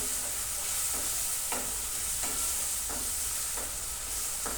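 Green fenugreek tempering is fried for dal, giving a constant hissing sizzle broken by regular stirring strokes about every second, close by and with no voices.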